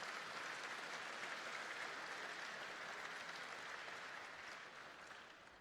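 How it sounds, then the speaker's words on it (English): A convocation audience gives a steady round of applause, a dense wash of many hands clapping that holds even and then slowly tapers near the end. "Let's give him another round of applause."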